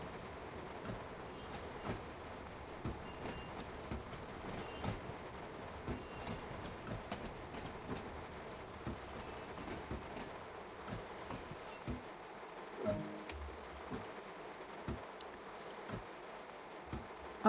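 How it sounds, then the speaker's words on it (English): Steel train wheels squeal against the rail flanges in Train Sim World on the Isle of Wight line, a steady rolling clatter with sharp high squeals near the end, fairly quiet and with no talk. "I have to say I'm liking the wheel flange noises."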